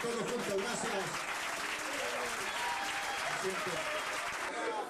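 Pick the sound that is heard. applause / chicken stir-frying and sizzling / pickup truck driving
applause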